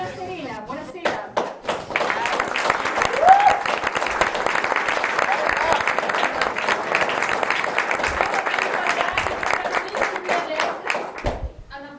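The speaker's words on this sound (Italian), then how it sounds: "Hanno applaudito con vigore" A carnival crowd in Venice applauds vigorously for several seconds, with thick, sustained clapping and some voices underneath. The sound gradually tapers off into a few scattered claps.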